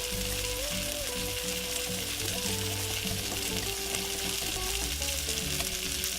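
Polenta with Parmesan cheese is stirred in a pot, a soft, continuous bubbling and stirring texture that runs steadily throughout, fairly quiet and close.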